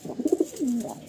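A male Madrasi pigeon in a loft coos in a short, close run of soft throaty pulses that end in a drawn-out low note.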